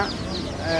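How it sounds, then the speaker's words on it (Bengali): Farm chicken chicks cluck up close at a busy pigeon and bird market in Bhairab Bazar, Moulvibazar, Sylhet. Their short, continuous chatter is mixed with nearby voices. "দেখলাম এটা ফার্মার মুরগি বাচ্চা"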